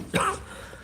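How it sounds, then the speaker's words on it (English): A single sharp cough bursts out close to the mic, quick and throaty, then fades into a quiet room. "Oh my god, this cough"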